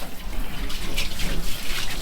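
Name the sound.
water rinsing a Corvair engine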